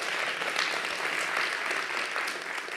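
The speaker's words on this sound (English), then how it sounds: "Give yourselves a round of applause." Dense, steady applause fills a room of summit attendees, loud and continuous with no talking over it.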